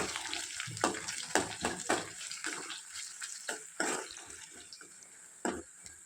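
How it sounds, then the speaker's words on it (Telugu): Chopped onions with bay leaf, curry leaves and slit green chillies sizzle in oil in a pan for sherva, a soft steady hiss broken by stirring scrapes and clinks, close but quiet. "ఈ ఆనియన్స్ కూడా బాగా వేగిపోవాలండి."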